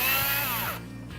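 A power driver whirs briefly as it removes T20 Torx screws above a BMW 3 Series headlight, a short high motor whine that winds down and stops within about a second.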